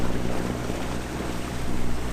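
A sailboat motor sailing toward a channel opening, heard as a loud, steady wash of wind, water and low engine drone with no pauses.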